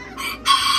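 An Old English Game bantam chicken gives a short, bright call, rising in loudness partway through, close by and with no voices.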